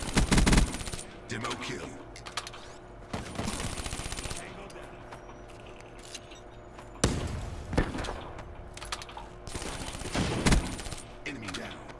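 Gunfire in Call of Duty Black Ops 3: bursts of automatic weapon fire and sharp single shots that come and go over twelve seconds, mixed with in-game sounds, while a player talks briefly.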